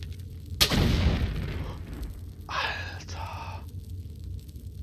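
Explosive-tipped arrows blasting in Tomb Raider IV, a sharp loud detonation followed by a long rumbling decay, then a shorter burst of crackling noise a couple of seconds later.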